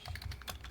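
A computer keyboard clatters with rapid, loud keystrokes during a competitive online game session, a quick burst of close clicking with no voices over it.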